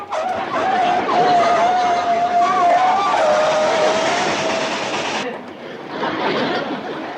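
A loud, rumbling locomotive roars past on a curve with a long squealing whine of wheels on rails, then noise drops abruptly and a rushing rumble continues.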